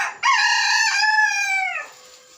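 A long-tailed rooster crows once, close and clear, with a single drawn-out call of about one and a half seconds that trails off.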